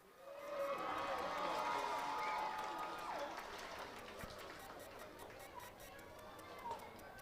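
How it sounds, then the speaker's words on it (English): A crowd at a high school homecoming celebration applauds and cheers for the 2023 homecoming king and queen. The sound is a broad, sustained wash of clapping that stays loud, then eases slightly, with some voices mixed in. "let's give one more round of applause for the 2023 Homecoming King and Queen, Dominique White and Kira Peed"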